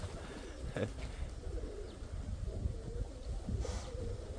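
Domestic pigeon cooing softly at close range, a few low murmuring coos over light wind noise, with no talking.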